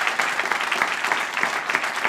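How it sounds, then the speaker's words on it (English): Studio audience at a comedy science panel show claps steadily, a dense burst of applause at moderate volume lasting a couple of seconds with no talk over it. "Allison, we can applaud that"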